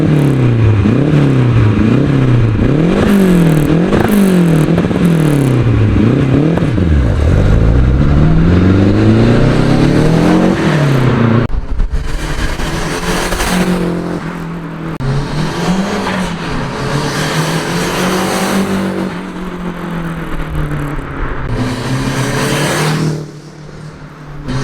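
A Renault 5 GT Turbo drives past, its engine rising and falling through repeated revving gear changes, loud and close, then fading as it pulls away, with no talking.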